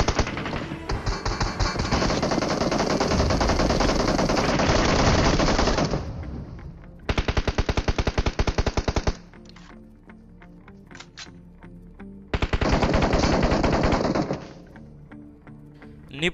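Rapid automatic gunfire in a Hindi-commentated battle royale video game, with loud sustained bursts, a short pause, then another burst and scattered single shots before a final volley.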